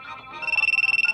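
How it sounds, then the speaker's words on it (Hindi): A mobile phone ringtone in a Hindi cartoon movie starts up and pulses rapidly in a steady electronic trill, loud and close, over a brief muffled voice-like murmur at the start. "मेरा फोन बज रहा है"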